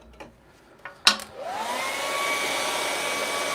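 A hair dryer blasts a freshly painted layer of a moonlit mountain scene, starting after a few small clicks and handling noises and then holding a loud, steady whoosh close by.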